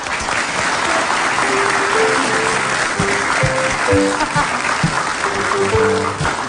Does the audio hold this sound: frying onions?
no